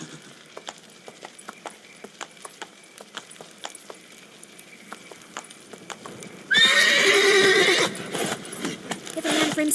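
A horse in The Witcher 3 clip-clops steadily at a brisk gait, then lets out a loud, close whinny, with the hoofbeats carrying on underneath.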